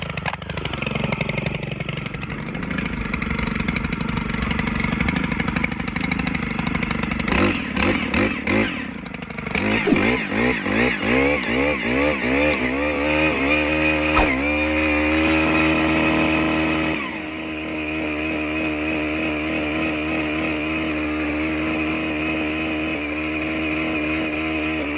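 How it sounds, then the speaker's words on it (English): A petrol post hole auger starts and revs hard while digging a hole for a fence post, its engine loud and close, rising and falling in pitch before settling into a steady drone. "we fire up the auger. I'll try and dig this hole here."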